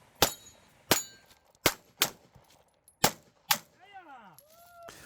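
Pistol gunshots ring out during a competitive shooting stage: six sharp, loud reports in quick, uneven succession, followed by faint wavering, ringing tones.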